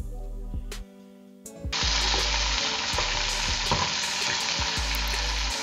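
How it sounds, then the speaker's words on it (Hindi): Chopped broad beans (sem) hit a hot pan with spices for a sem matar aloo sabji, breaking into a loud, steady sizzle after a short quiet start, with a few clattering stirs. "तो अब हम यहाँ पे सेम को अच्छे से फ्राई कर लेंगे।"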